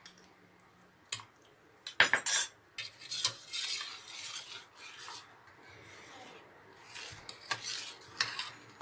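Spoon scrapes and rasps around a pot of milk as it curdles into chhena, irregular strokes with a few sharp clinks against the rim, close by, no voices.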